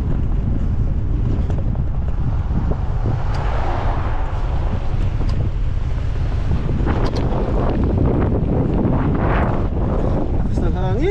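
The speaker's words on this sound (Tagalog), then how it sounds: "Lakas ng hangin." Strong wind buffets the microphone during a bike commute to and from work in Canada, a loud continuous rumble throughout with gusty swells and passing traffic noise.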